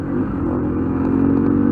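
A motorcycle passing by on a road in Pakistan, its engine droning steadily and loud with a low rumbling tone and slight rise in intensity as it goes by.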